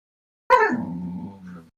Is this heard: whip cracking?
no